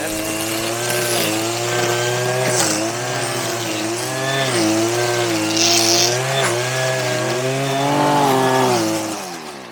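A string trimmer cuts grass around turf valve covers, its two-stroke engine buzzing loud and close with a rising and falling pitch as the throttle is worked, continuous throughout with no talk.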